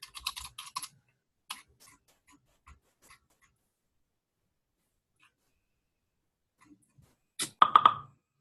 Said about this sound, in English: let me type it out for you